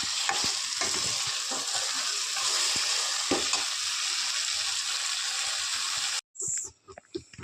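Masala frying and simmering on a low flame, a steady close sizzle with occasional stirring scrapes that runs for about six seconds before cutting out, followed by a few brief softer sounds.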